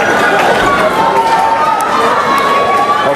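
A loud, dense crowd cheers and screams continuously after a girls' doubles junior racquetball match between Bolivia and Mexico, with young players aged 10.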